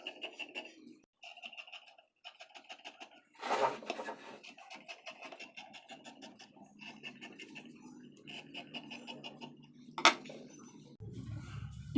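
Scissors snip and rasp through blouse fabric in short, intermittent bursts, with quiet scraping of cloth on a cutting surface between cuts, close and fairly soft, with no talking.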